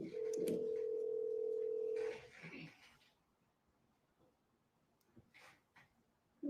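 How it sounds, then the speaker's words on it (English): A telephone tone opens a recorded phone call, a steady, loud electronic beep held for about two seconds, then a short burst of line noise followed by near silence and faint, sparse clicks. "Let's listen to this phone call."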